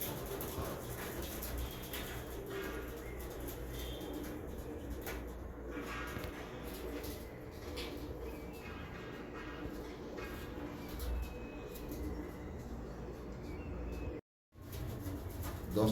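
Royal Teddy pigeons coo steadily in a loft, a dense layered murmur of many birds throughout, with a brief silent gap near the end.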